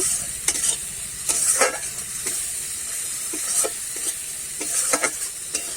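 Masala sizzling steadily in a frying pan, with a constant hiss of hot oil broken by periodic scraping stirs of a spoon, close and fairly loud.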